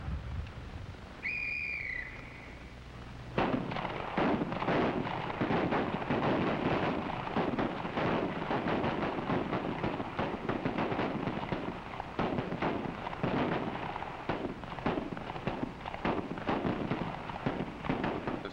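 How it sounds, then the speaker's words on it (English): Gunfire rings out across an FBI firing range in a dense, continuous barrage of sharp cracks and echoing reports, loud and overlapping, following a brief whistle-like tone at the start. "The sound of gunfire echoes across the range through the day and into the night."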